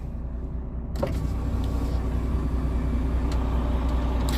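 A UK truck's power window opens with a steady electric motor whir that starts after about a second and continues to the end, set over the idling cab's background hum.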